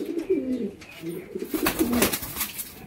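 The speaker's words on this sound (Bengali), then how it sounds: "এক জোড়া তুড়িবাজ পায়রা, খেলা দেখিয়ে দেওয়া যাবে" A pair of tumbler pigeons, a male and a female, coo in low, throaty, repeated phrases close by, with a brief higher rustle or flutter partway through.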